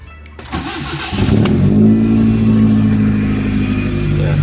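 A car engine cranks briefly after a low battery, then catches and starts, revving up before settling into a steady, loud idle close by.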